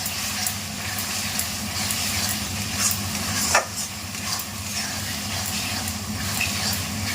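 Goat meat cooking in a hot pan gives a steady, loud, close sizzle and fry with a brief stirring scrape partway through, and no talk.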